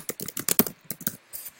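Fingers tapping quickly on a computer keyboard, a rapid run of close, crisp clicks with short gaps, faint and alone.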